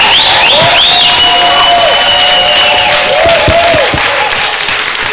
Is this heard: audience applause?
yes